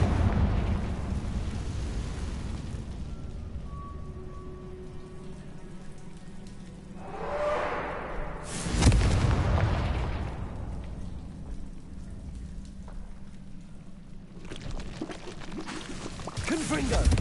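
Confringo, a blasting spell in Hogwarts Legacy, bursts in a loud fiery whoosh and then a sharp explosion midway, set against a steady rain-like hiss, with spoken voices heard around it.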